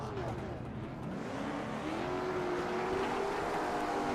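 Race car engines rev and build in pitch at a race start at Mid-Ohio Sports Car Course, a steady loud roar with a rising whine and broad background noise.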